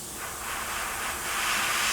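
An airbrush sprays aluminium paint at about 15 psi onto a 1/48 scale Tamiya P-51D Mustang model. It makes a steady, close, airy hiss that swells slightly toward the end, with no voices.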